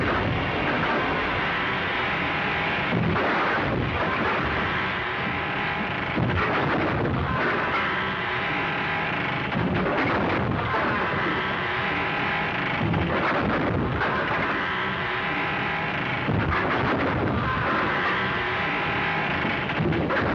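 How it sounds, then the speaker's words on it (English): Gunfire from a window in a 1935 Western film, a series of heavy, booming shots repeating every couple of seconds, loud and muffled by old film sound. "Firing at him from the window."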